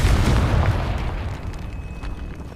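A Confringo spell explodes in the Hogwarts Legacy video game, a loud close boom that rolls off into a fading rumble over a couple of seconds.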